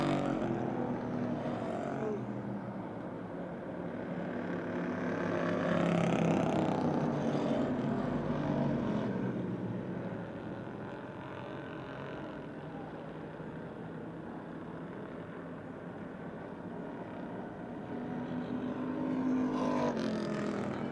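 Race cars roar around the Motordrome Speedway oval in a continuous engine drone that swells and fades as the pack passes, heard from a distance.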